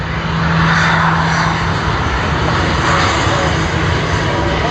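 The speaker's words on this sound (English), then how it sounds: "Panning around to the mighty Airbus A380 EK412 for its flight to Christchurch." Airbus A380 jet airliner taking off at Sydney Airport, a loud continuous engine roar with a steady low hum, sustained throughout with no voices.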